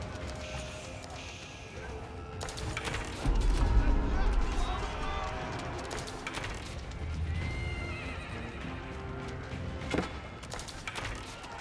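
Horses and mounted archers in Age of Empires IV, with neighs, whinnies and clip-clopping hooves over game battle noise and a few sharp combat hits. A commentator talks over part of it.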